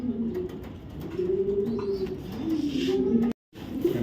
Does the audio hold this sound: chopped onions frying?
no